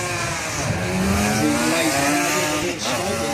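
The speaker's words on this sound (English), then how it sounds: "Nice 2-stroke 4-cylinder inline engine, mainly built for the TZ750s, but a lot of cycler outfits use them" Two-stroke four-cylinder inline racing engine, built for the Yamaha TZ750, powering a sidecar outfit on track, screaming loud and close at high revs with a steady rising howl throughout.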